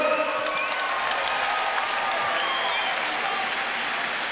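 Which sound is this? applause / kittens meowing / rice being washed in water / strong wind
applause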